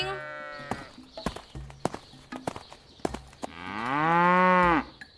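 A cow brought for an Eid al-Adha sacrifice lets out a long, loud, close moo near the end, preceded by a shorter low call and sharp clattering knocks like hooves.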